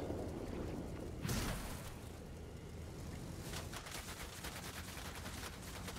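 B-17G bomber's .50 caliber machine guns firing in the combat flight game World of Warplanes, a dense rattling barrage of rapid bursts with a heavier hit early on and continuous gunfire throughout.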